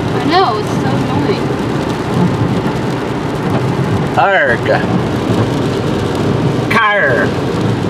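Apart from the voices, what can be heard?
rain and thunder outdoors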